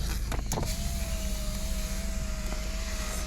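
A car approaching on a village road at night during a leopard rescue operation in Sunderkhal, a steady engine hum with a faint whine, loud and continuous throughout.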